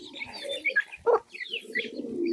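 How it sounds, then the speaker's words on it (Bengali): A pigeon coos softly in low, rolling phrases near a group of small chicken chicks at feeding time, with a few faint higher chirps around it and no talk. "এখানে একটা কবুতর এসেছে খাবারগুলো খাইতো"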